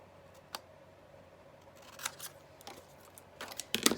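Scissors snipping paper ephemera at close range, a few quiet crisp cuts that gather into a faster cluster of snips near the end, with no talking.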